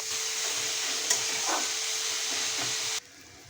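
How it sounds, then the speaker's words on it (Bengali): Sliced onions with salt and garlic sizzle steadily in a hot pan for a Bengali-style chicken curry, a loud continuous hiss with faint stirring scrapes that cuts off abruptly near the end. "পেঁয়াজটা যাতে তাড়াতাড়ি ভাজা হয়ে যায় সেই জন্য লবণ দিয়ে দিচ্ছি।"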